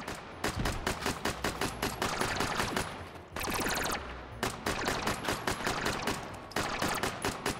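Rapid volleys of semi-automatic gunfire crack out in Hot Dogs, Horseshoes & Hand Grenades, loud and close, in dense bursts separated by a few brief pauses.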